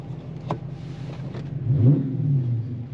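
A supercharged, Edelbrock-powered 600 hp Dodge Challenger SRT8 idles at about 800 RPM, a steady deep burble close by that swells into a slightly louder, rougher rumble partway through.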